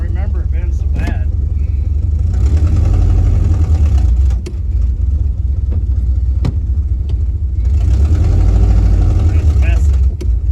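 A 1967 Ford Galaxie's engine runs as the car drives in first gear, a steady low rumbling drone with a few sharp clicks, while people talk over it throughout.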